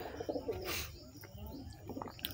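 Pigeons coo softly at close range in short bursts, with faint chirps mixed in.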